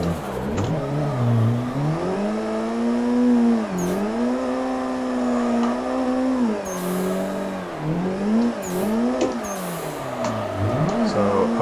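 A drift car slides along a wall with its engine revving hard, the pitch rising and falling in repeated surges as the throttle is worked, loud and close throughout the run.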